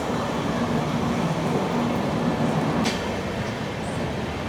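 The Ratnachal Superfast Express, running Vijayawada to Visakhapatnam, rumbles along in motion with a steady broadband roar heard from inside, and a brief sharp hiss or squeal near the end.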